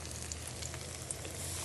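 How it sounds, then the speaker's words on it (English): Chicken cutlets pan-seared in olive oil sizzle with a soft, steady crackle and occasional pops, fairly quiet and close, without any talking. "Oh, look at that sizzle."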